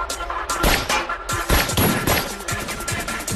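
Gunfire in a shootout from a Hindi-dubbed South Indian action movie, rapid bursts of loud shots and crashes packed together over a busy soundtrack, close and intense.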